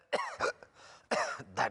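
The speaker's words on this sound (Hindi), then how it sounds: "दर्दनाक खांसी हो रही है" Two bursts of harsh, raspy coughing, each made of a couple of quick hacks, close and fairly loud with a short pause between.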